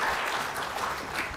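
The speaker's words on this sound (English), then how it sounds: "I think we should applaud multiple times tonight" Audience applause fills a lecture hall, steady and dense clapping throughout with no voices over it.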